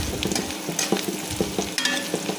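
Small shrimp sizzle and fry in a hot pan in a home kitchen, a steady crackling hiss with occasional scraping stirs, close and clear with no voices.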